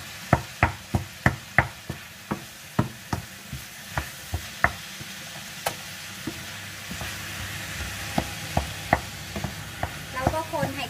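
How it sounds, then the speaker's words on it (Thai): Meat, carrot and onion frying in a pan, stirred with a utensil that clacks against the pan in repeated sharp knocks over a soft, steady sizzle, the strokes spacing out and then bunching near the end. "แล้วก็คนให้เขาเข้ากันเนาะค่ะจนกว่าเนื้อจนกว่าแครอทแล้วก็หอมจะสุกเนาะค่ะ"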